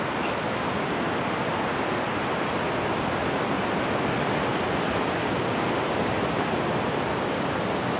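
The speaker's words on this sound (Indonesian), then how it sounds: "Ini yang di belakang saya ini ombaknya mungkin lagi pasang," Big high-tide waves breaking on a beach, a steady roaring wash of surf that fills the whole clip with no clear individual breakers and no voices.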